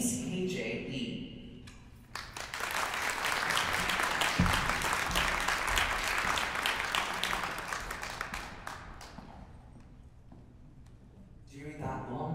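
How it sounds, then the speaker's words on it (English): Sustained audience applause at a gala greets an ambassador being invited to the stage, a full roomful of clapping rising after a brief spoken introduction and fading before speech resumes. "our applause needs to continue"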